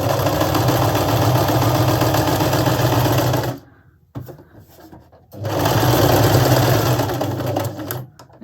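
A sewing machine runs steadily stitching patchwork fabric scraps, a loud close whirring hum that stops for about two seconds with a few faint clicks, then starts up again and keeps going.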